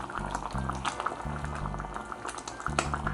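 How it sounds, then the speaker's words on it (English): Peas simmer in a pot of water for Jamaican rice and peas, giving a close, steady bubbling with low gurgling pulses and small splashes and no talking. "So it's been another 30 minutes since the peas have been cooking."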